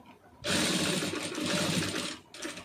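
A sewing machine stitches fall fabric onto a saree in a short, fast burst of close mechanical whirring, with a brief pause before it starts again.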